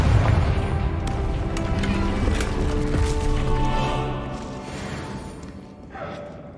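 Confringo blasting spell from Hogwarts Legacy going off in a dense, rumbling roar that stays loud for several seconds before tapering, with a smaller thump near the end.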